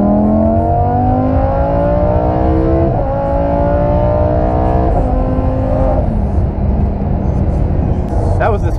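Blacked-out Lamborghini Huracan launching hard from low speed, exhaust roaring loudly and rising in pitch through several gear shifts, close and continuous.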